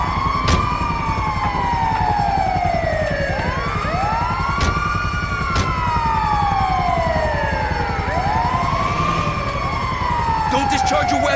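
An ambulance siren in the GTA 5 video game wails in repeated rising and falling sweeps, loud and continuous, with sharp clicks and game noise mixed in and no speech over it.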